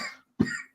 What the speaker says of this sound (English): Oh, you still got the cough there.